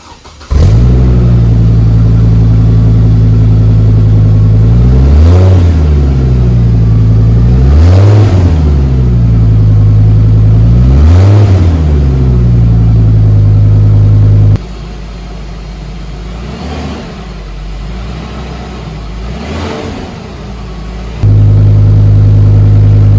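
Hummer H3 engine revved through a new exhaust system, several loud rising and falling revs with deep growl, a quieter idle stretch in between, then back to a strong close rumble.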